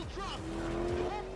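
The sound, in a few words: car in Forza video game trailer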